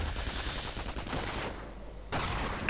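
Crackling bursts of WWII-era rifle and machine-gun fire from a strategy game battle, a dense rattling volley for a couple of seconds before dropping away, then a sharp loud report at the very end.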